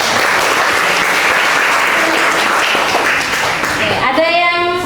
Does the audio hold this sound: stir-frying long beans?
no